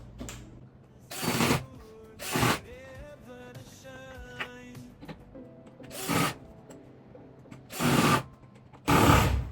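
Power drill driving into a French cleat on a painting canvas, several loud whirring bursts of about half a second each, separated by quieter fiddling and handling noises.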